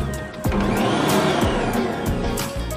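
Electric mixer beating bread dough ingredients for a soft milk bread, a loud close motor whir with rhythmic thumps as the beaters turn through the mix.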